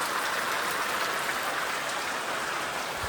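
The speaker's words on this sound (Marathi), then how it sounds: "पाऊस पडतो गावाकडे जोरदार" Heavy rain pours steadily on a village, a dense, even hiss of drops on surfaces that stays loud and unbroken throughout, with no voices.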